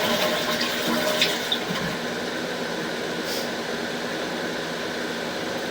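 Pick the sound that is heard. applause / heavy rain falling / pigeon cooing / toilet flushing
toilet flushing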